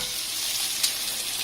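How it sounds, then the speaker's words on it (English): Pork belly fries in a hot Dutch oven pan with a loud, steady sizzle that holds close and even throughout, with one brief spit partway through. "A hot pan, and the pork goes in."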